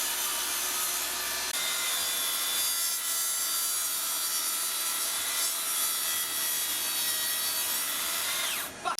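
A Makita 40v cordless plunge saw cuts through wood in one long, steady, loud pass of bright high-pitched whine and rasp that lasts almost the whole time, then drops off abruptly at the end.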